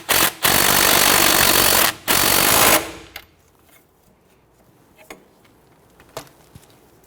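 An impact driver buzzes in two loud, rapid bursts while tightening a sway bar link nut on a 2006-2014 Honda Ridgeline, followed by quiet with a few faint clicks and taps.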